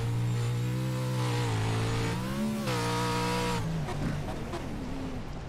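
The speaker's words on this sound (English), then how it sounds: "these trucks sound absolutely nuts, don't they?" A Pro4 off-road racing truck engine at Crandon, heard on-board, roars loud and close, its pitch climbing through gear pulls, dipping at a shift, then rising again before backing off into rougher, lower rumble.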